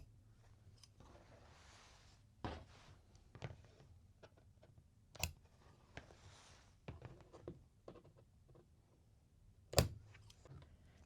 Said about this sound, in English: Let's go ahead and snip off these little points here.